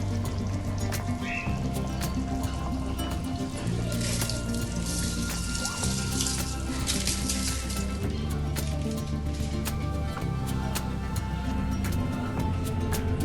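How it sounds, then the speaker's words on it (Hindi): Rice is poured into a pot of boiling beef stock for yakhni pulao, with a steady, continuous bubbling, hissing and trickling wash of water throughout, moderately loud and without talk. "मैं यहाँ पे राइस ऐड कर रही हूँ"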